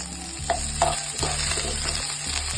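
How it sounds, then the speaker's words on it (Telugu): Onions and green chillies fry in a pan for a stuffed brinjal curry, giving a steady close sizzle broken by a few soft clinks of stirring, with no talk. "కొంచెం ఆనియన్ అనేది పచ్చివాసన పోయే వరకు వేగనివ్వాలి."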